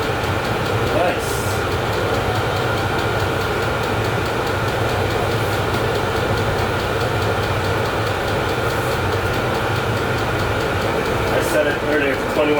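A VEVOR diesel heater running on its first start, giving a steady, even mechanical hum and whir at moderate level with no breaks.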